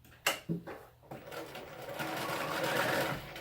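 A sewing machine stitches with a zipper foot while attaching a pencil case lining to the outer fabric: a few short taps, then a continuous, fast mechanical whirr that builds and holds close by.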